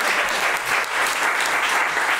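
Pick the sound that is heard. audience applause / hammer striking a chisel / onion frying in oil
audience applause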